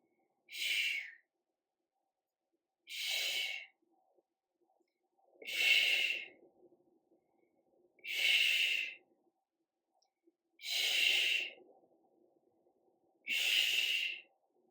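Six forceful breaths during a biceps workout in a small home space, each a strong airy rush of exhaling and inhaling, evenly spaced about every two seconds, close and clear with no talking.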